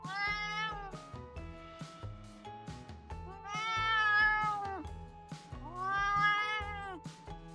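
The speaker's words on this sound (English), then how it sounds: "that sassy meow was basically cat speak for "How dare you?"" A cat gives a series of long, drawn-out, sassy meows, loud and close, with quieter shorter mews and soft background sounds between the louder calls.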